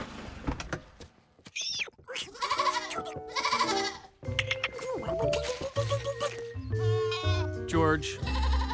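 Cartoon baby goats bleating in a bedroom, several high wavering bleats in quick succession, loud and close, mixed with voices talking and some clunks.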